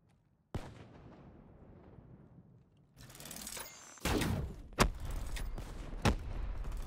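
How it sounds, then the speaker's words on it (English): Several loud, sharp explosive blasts in the game Halo, on the Breach map, spaced irregularly after a quieter stretch, with rumbling booms and crackling between them. "There's the explosion."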